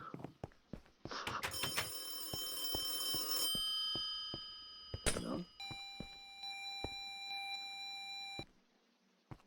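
Telephone ringing in a Minecraft horror map, a steady electronic trill that starts after clicks and scattered knocks, continues for several seconds and then stops.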